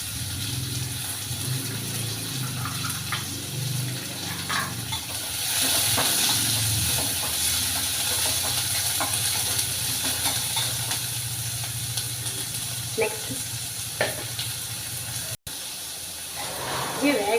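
Chopped onions and dried red chillies sizzle in a pan with a steady frying hiss. The hiss swells louder about a third of the way in, with occasional stirring scrapes.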